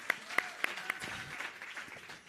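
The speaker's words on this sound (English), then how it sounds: "Please clap hands for the acting CEO" Audience clapping for an acting CEO at a property practitioners and real estate companies meeting, starting with a few sharp separate claps and then thinning into a scattered, moderate patter that fades out.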